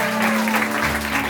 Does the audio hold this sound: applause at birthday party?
yes